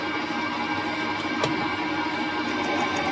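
Manual lathe cutting metal for chopper forward controls on a rigid Triumph build, a steady, continuous machining hum and hiss with one brief sharper scrape midway, close and unbroken with no talk.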